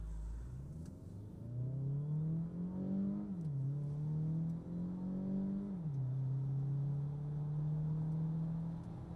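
A Peugeot 3008 plug-in hybrid with a 1.6 turbo engine and eDCS7 gearbox accelerates flat out from 0 to 100 km/h in sport mode, its engine note rising steadily through two clear gear shifts, heard from inside the cabin.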